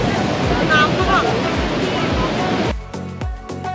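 Roaring water at Iguazu Falls, a massive South American waterfall, fills the scene as a dense, loud broadband rush that drops off sharply partway through, with faint voices near the start.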